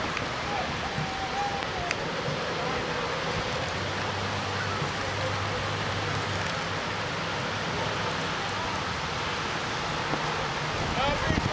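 Rain falls during an outdoor Greek Independence Day parade in Cleveland, with hail in the weather, making a steady, even hiss of drops across the whole stretch, with faint voices in the background.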